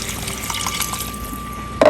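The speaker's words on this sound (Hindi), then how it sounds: "पानी डाल दूँगी" Water pours into a pan of desi chicken karahi cooked with green chilli and black pepper, a short, close splashing and trickling, ending in a brief louder splash.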